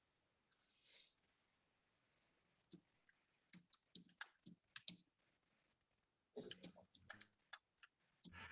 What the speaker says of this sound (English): Sounds like he's typing like, everybody get off the Wi-Fi.